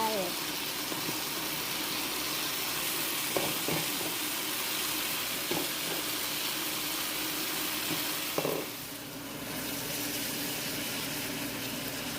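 Noodles for pad thai are stir-fried in a hot pan, giving a continuous loud sizzle with scraping and stirring clatter throughout, close up, with a brief dip in the frying noise near the end.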